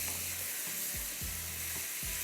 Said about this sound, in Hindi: अदरक लहसुन का पेस्ट 1 चाय का चम्मच भर के और 1 टमाटर हमने डाल दिया। थोड़ा सा इसको भूनेंगे।